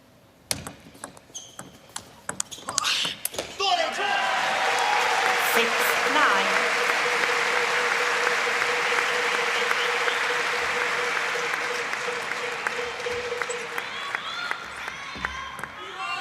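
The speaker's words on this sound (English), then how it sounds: "An applause from the 3-time Olympic finalist" A crowd applauds at a table tennis match between Dimitrij Ovtcharov and Ma Long, starting with scattered ball taps, then a loud sustained roar of clapping that slowly fades, with a commentator's voice over it.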